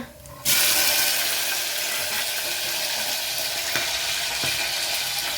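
Whole spices, cumin seeds and bay leaf hit hot fresh ghee and burst into a loud, steady sizzle that carries on evenly, with a few light crackles and utensil clicks.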